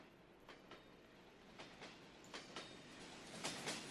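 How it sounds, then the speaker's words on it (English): A train passes in the WWII strategy game Men of War, its wheels giving a regular clickety-clack of paired thumps over a constant rolling rumble, heard at a distance and fairly quiet. "I hear a train."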